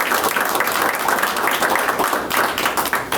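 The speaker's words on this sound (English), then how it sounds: "Let's give Shiloh a round of applause." An audience at a school board of education meeting gives a round of applause for an award winner, a dense, steady clapping from many hands held at an even level throughout.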